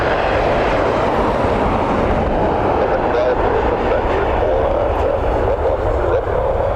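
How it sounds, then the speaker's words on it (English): An Embraer jet landing at Dublin Airport with a nose-high flare, a continuous broad engine rumble and rush filling the scene, with people talking over it. "you'll see a very nose high flare here now because of the Embraer"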